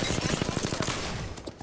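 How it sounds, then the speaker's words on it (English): Rapid bursts of gunfire strike the player during a ranked no-comms battle royale match, a fast run of sharp repeated shots close up, loud and dense for most of the moment before thinning out. "I'm getting shot."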